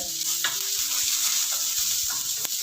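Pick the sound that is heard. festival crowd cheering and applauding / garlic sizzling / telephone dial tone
garlic sizzling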